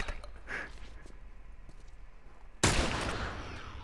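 A gunshot in The Last of Us, a single loud blast that breaks in abruptly after a quieter stretch and then trails off into a ringing decay.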